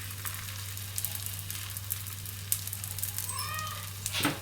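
A ragi masala rotti sizzles steadily on a hot pan, a continuous close frying hiss over a low steady hum, with a few light scrapes and a short clatter at the end.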